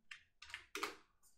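Three quick bursts of typing on a computer keyboard while entering characters into a spreadsheet, keystrokes clustered close and crisp with short gaps between, no voice over them.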